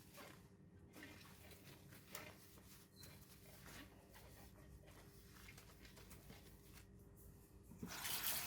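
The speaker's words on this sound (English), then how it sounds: "Rinse it off thoroughly" Water from a kitchen tap runs steadily over a glass pan lid as it is rinsed, a continuous close splashing hiss with small shifts as the lid moves, and the flow grows louder near the end.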